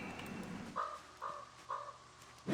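Crows caw in Project Zomboid, three clear harsh calls at an even pace over a low, steady background rumble.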